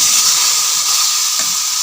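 Water is poured into a hot pan of chicken korma being cooked over a medium-high flame, and it makes a loud, steady hiss and sizzle that fills the whole moment.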